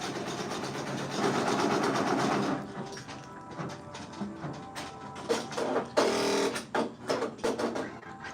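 Brother Persona embroidery machine stitching a design, a mechanical whirring hum with rapid needle thumps and uneven clattering bursts, close and fairly loud, no voice.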